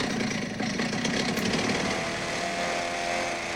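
A chainsaw runs steadily and loud at close range with a buzzing engine drone while cutting, its tone shifting slightly partway through, with no voices over it.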